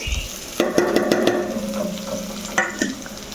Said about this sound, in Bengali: তো এখন এটাকে বেশ ভালো করে একটু লাল লাল করে ভেজে নেব।